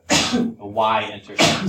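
A single sharp sneeze bursts out in a classroom during a math lesson, with a person speaking just before it.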